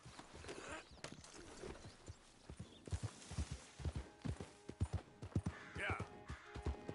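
A horse ridden in the video game Red Dead Redemption 2 clip-clops faintly in a steady rhythmic gait. Soft game voices sound briefly over the hooves.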